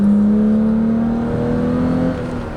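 A BMW E32 six-cylinder engine revs loudly and steadily up close, its pitch climbing slightly before easing off near the end.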